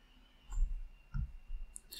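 A computer mouse clicks a few times in a quiet room, sharp close taps spaced apart with faint low handling thumps between them.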